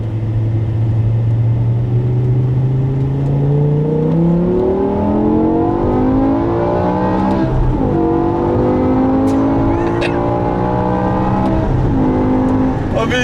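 A 2008 BMW M5 E60 with its naturally aspirated V10 drones loudly and continuously up close, the pitch climbing and falling through gear changes as it downshifts and brakes lightly.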